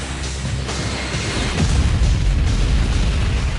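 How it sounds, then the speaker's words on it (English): A KLM jumbo jet smashes into an American jumbo jet at 290 km/h at Tenerife airport: a loud, sustained roaring crash with heavy low rumble, swelling midway into a deeper booming blast that continues without pause. "The KLM smashes into the American jumbo at 290 kilometers per hour. Just a shattering noise."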